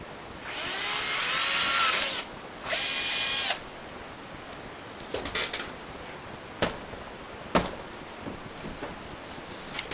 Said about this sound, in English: So I'll go ahead and drill that now.